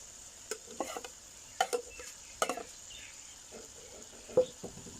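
A spoon stirs fried cauliflower into masala in a pan, giving scattered scraping and clattering knocks in short irregular bursts over a quiet, faint background sizzle.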